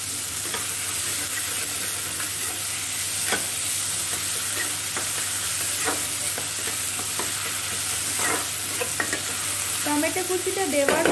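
Chopped tomato sizzles in hot oil in a pan for Bengali vetki fish kalia, a steady loud frying hiss broken by scraping stirs of a spatula.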